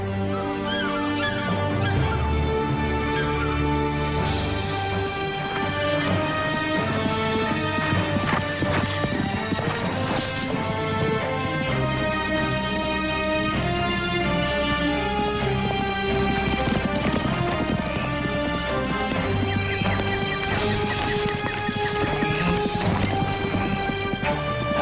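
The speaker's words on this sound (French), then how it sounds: "Habillez-vous, on part à cheval." Horse hooves clip-clop at a steady trot beneath loud, continuous music, with a neigh and occasional crashes mixed in.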